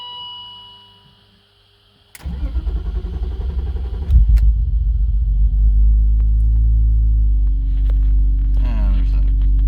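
BMW E36 with a new muffler, its exhaust firing up after a quiet moment and settling into a deep, loud, steady rumbling drone as it pulls away, close by.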